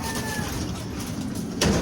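Pigeons in a loft cooing before their morning feeding, soft low coos and rustling nearby, with a louder burst of movement near the end.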